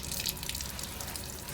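Running water streams and splashes while a dog's face is rinsed during a bath, a close, steady gush with brief drips and no voices.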